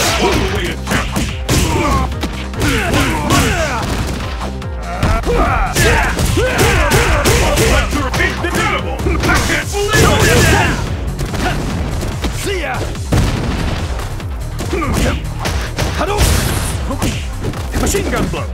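Dudley's Machine Gun Blow in Ultra Street Fighter 4 lands as a rapid flurry of punching thuds and impacts, loud and dense over game music, with an announcer's voice talking throughout.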